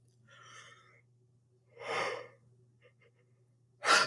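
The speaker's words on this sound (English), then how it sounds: "who's making me yawn in here?" A person yawns with a drawn-out, partly voiced breath, followed by quieter breathy exhalations and a sharp intake near the end, all close and soft against a faint steady hum.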